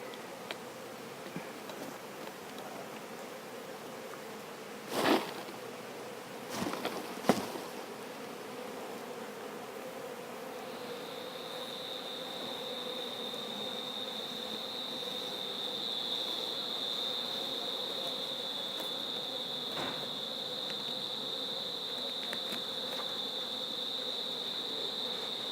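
A swarm of honeybees being caught hums in a steady, sustained drone that grows fuller partway through, after a few knocks and thumps early on.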